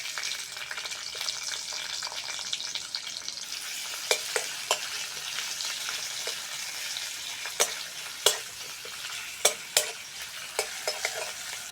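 Onion and green chili fry in hot oil, a steady bright sizzle with sharp scrapes of stirring in the second half, the spatula knocking against the pan several times.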